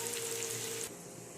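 Hot spiced tadka tempering sizzles as it hits lassi for kadhi pakora, a close, steady frying hiss that drops off sharply after about a second, with no voices.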